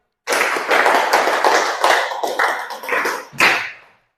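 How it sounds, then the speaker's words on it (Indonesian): A group of students claps in a brisk unison rhythm, a run of five claps repeated, loud and close in a classroom, with slightly ragged timing. "Tepuk 5 kali 2 kali"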